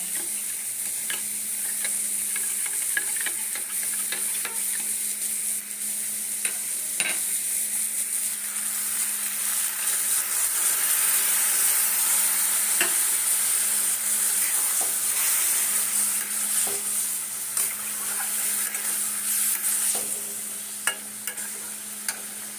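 Yogurt is stirred into a sizzling butter paneer gravy in a pan, with a steady frying hiss and occasional scraping clicks of the spoon running close and continuous throughout.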